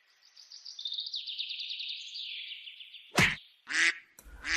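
A cartoon goose honks in quick repeated calls, several loud close nasal honks one after another, with a sharp burst of noisy effects at the end.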